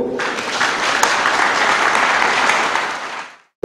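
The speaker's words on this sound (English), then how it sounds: "Clap your hands for the Lord." A church audience in Gweru, Zimbabwe claps hands loudly in a dense burst of applause lasting about three seconds before it fades out abruptly.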